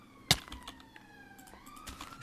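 Warbling fire alarm siren in the Minecraft 1.9 pre-release with the Aether mod, a steady electronic tone with gliding pitch sweeps, heard alone at moderate level after a single sharp click near the start.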